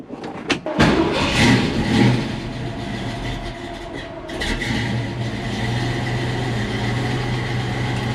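A 1966 Ford Mustang engine idles as a steady low rumble after a short burst and clatter at the start, heard from inside the car, with no talk.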